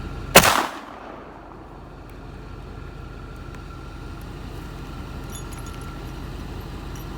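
An H&R 32 gauge rifled-barrel shotgun fires a 50-70 Govt load into the dirt outdoors, one sharp loud report at the start, then a quiet outdoor background for the rest.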